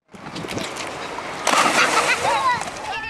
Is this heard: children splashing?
yes